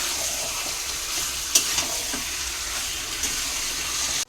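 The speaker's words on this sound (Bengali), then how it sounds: "এদিকে চিকেনটা কষা হচ্ছে" Chicken stir-frying (kosha) in a pan, a steady loud sizzle with occasional stirring scrapes, continuous and close throughout.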